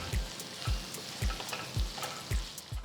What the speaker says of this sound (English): Sauté until the onions turn soft and translucent.